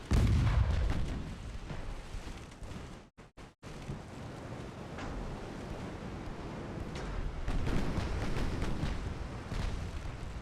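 Naval gunfire and 6-inch shell hits from the warship game Ultimate Admiral Dreadnoughts, a dense roar of rumbling blasts with sharp impacts and brief dropouts, loud and continuous throughout.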